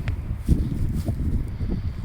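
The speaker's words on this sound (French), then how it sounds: "Là il y a du vent dehors" Wind blows outside at night, producing low, gusty buffeting against the microphone with soft rustling, steady and close for a couple of seconds.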